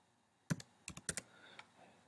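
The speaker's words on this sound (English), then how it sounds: "So I have to type this in." Several close, crisp computer keyboard keystrokes tapped in a short irregular burst, with a lone final click after a pause and quiet in between.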